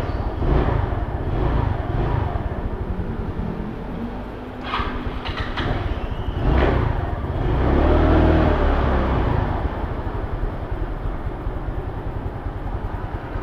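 A Rusi Breeze 150 motorcycle engine runs steadily while warming up, giving a continuous, fairly loud low rumble that swells slightly midway, with no one talking over it.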